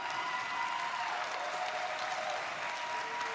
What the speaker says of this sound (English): Everyone give a round of applause for James.